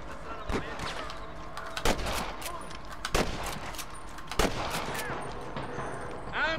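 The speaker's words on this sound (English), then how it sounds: "I can hear more gunshots." Gunfire in the Red Dead Redemption video game: several sharp, loud shots ring out at irregular intervals over a busy background of game ambience and scattered clatter, with no clear talk.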